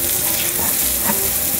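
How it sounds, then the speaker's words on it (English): A tablespoon of butter sizzles steadily in a hot pan for a burger recipe, a close, continuous crackling hiss with no voices. "We're going to add 1 tablespoon of butter."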